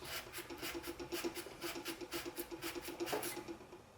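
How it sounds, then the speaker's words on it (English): A screwdriver scrapes debris off a toaster's circuit board in quick, regular rasping strokes, about three per second, faint and close with no voices. "I'll just use my screwdriver and scrape this stuff around. Get it off the circuit board."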